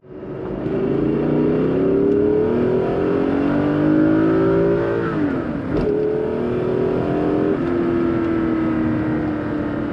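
A Dinan S2-tuned BMW Z8 accelerates hard and breaks traction. The engine note is loud and close as it climbs steadily, dips briefly partway through, then pulls on again at full throttle.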